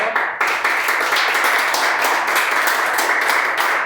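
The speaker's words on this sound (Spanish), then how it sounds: "Un aplauso al caballero, por favor." Audience applause for a man at a seminar on tax and criminal law in real estate: dense, steady clapping from many hands that begins abruptly and holds at an even level, close and loud, with no talk over it.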